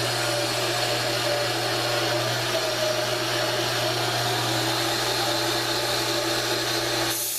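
Belt grinder running a flexible 120-grit belt against a knife blade spine, a loud, steady abrasive whir with a constant motor hum throughout, no pauses.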